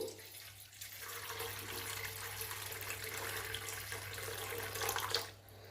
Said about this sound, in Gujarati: આપણે જે ભેળેલું લીધું છે તે વાટકાની અંદર પાણી એડ કરીશું